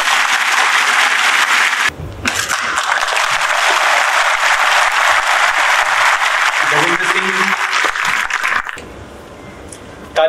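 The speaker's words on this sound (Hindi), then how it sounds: "तालियों का शंखनाद होने लगे" Loud, dense applause fills a hall during a Delhi Police ceremony for 4000 new community watch volunteers. It runs for several seconds, thins briefly, then fades out near the end, and a voice briefly cuts in.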